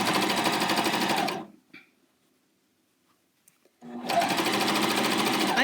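A Janome CoverPro 900CPX coverstitch machine stitches fabric in loud, rapid mechanical bursts, running for over a second, stopping into near silence with a faint click, then starting up again.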